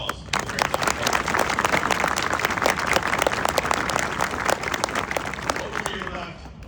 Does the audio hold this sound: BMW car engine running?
no